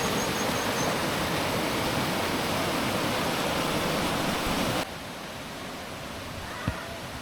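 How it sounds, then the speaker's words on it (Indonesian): Rushing water of a fairly large river at Gunung Puntang, Bandung, roars as a broad, steady wash, loud at first, then suddenly softer as if the listener moves away, with a small click near the end. "Ternyata di tempat ini ada sungai yang cukup besar"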